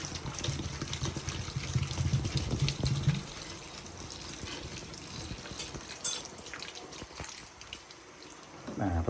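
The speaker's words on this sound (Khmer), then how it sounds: "ឥឡូវចំពោះទឹកដូងយើងចាក់ចូលឆ្នាំងតែម្ដង" Coconut juice pours into a cooking pot for steamed chicken in a steady liquid splash, strongest early and then thinning to trickles and drips, at moderate level with some faint background noise.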